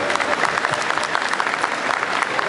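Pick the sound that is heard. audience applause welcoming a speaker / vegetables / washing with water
audience applause welcoming a speaker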